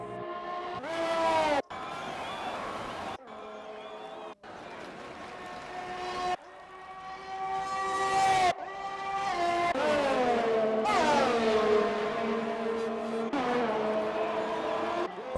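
A Formula 1 Ferrari car in a racing video game, pulling into the pits at a Mexico race. The engine whines loudly with stepped pitch sweeps as gears change, and a commentator talks over it.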